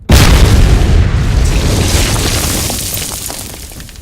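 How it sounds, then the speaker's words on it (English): A single heavy explosion from the first-person shooter Ground Branch bursts out loud and close, then rolls into a long rumbling decay that slowly fades over several seconds. "And of course, we've got cool explosions"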